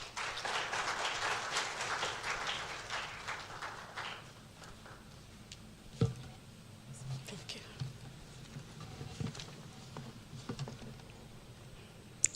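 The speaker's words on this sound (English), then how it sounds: "A round of applause, please." A ceremony crowd gives a fairly faint, dense patter of applause that fades after a few seconds, leaving scattered claps and room noise, with some talk in the background.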